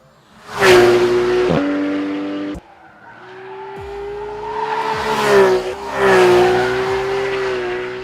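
A Porsche 911 991 GT3 flat-six screams up to high RPM on an open road, two loud climbing wails separated by a brief drop and gear change, heard close from inside the car.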